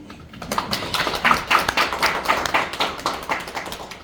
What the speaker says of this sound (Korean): 헌법연구관들의 노고에 대해서도 한 박수를 한번 쳐주십시오